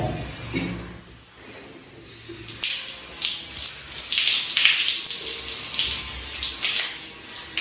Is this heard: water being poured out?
yes